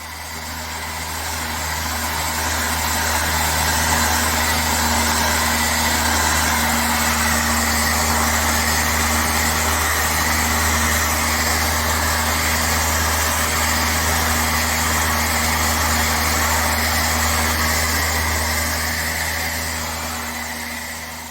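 A Parkside random orbital sander sands wood in one steady, loud, continuous whir with a low motor hum, running alone without talk for about twenty seconds.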